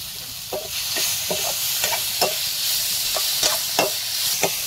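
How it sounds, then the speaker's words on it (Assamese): Onions and tomatoes fry in a pan on a home kitchen stove, a steady sizzle broken by repeated scraping strokes of a spoon stirring them, close and alone without talk. "ইয়াতে মই এয়া বিলাহীখিনি সেইখিনি দি ভাজি ল'ম"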